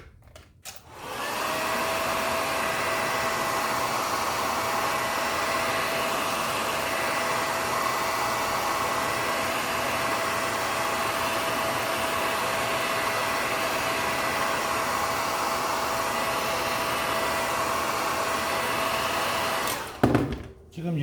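A hair dryer blows steadily on freshly dyed leather, a constant whooshing hiss with a thin whine running for about twenty seconds, switched on at the start and off at the end.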